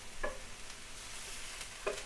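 Onions caramelising in a pan alongside beef burgers, a faint steady sizzle with two brief clicks of a utensil against the pan.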